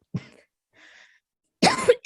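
A person coughs: a brief throat sound, a faint rasp, then a louder, harsh cough up close, with no other sound around it.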